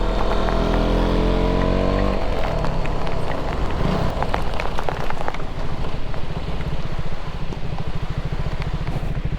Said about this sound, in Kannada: ದೊಡ್ಡ ದೊಡ್ಡ ಹಣ್ಣಿ ಬೀಳ್ತೈತೆ.